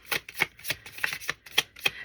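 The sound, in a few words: shuffling tarot cards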